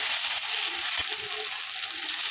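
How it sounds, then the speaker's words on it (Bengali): A single tomato drops into a pan of frying onions, and a continuous moderate sizzle carries on with a brief knock and faint stirring. "এবার টমেটো দিয়ে দিচ্ছি, একটাই টমেটো দিয়েছি"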